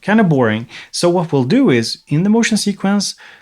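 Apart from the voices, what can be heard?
None of the usual background noises is heard.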